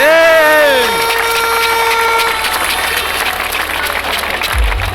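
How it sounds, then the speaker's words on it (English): Outdoor crowd at a Luton Town FC football promotion parade applauds loudly from the start, a dense wash of clapping that fades slightly but continues steadily throughout, with no voice over it. "Round of applause for Mark Cullen, everyone"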